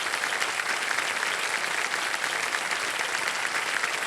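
Steady applause from a large TV game show studio audience, dense and even throughout, with no voices standing out.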